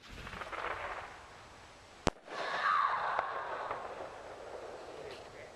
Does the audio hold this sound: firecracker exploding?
yes